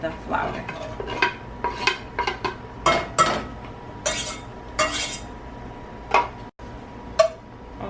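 A utensil stirs melting butter and garlic in a pan on medium heat for an Olive Garden-style Alfredo sauce, giving light, irregular clinks and scrapes close by, with no talking.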